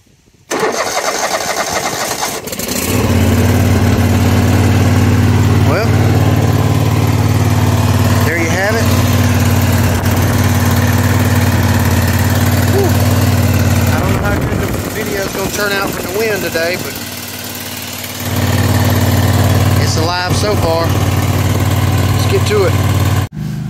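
A riding lawn mower cranks and starts, then settles into a loud, steady idle close by, with someone talking briefly over the running engine.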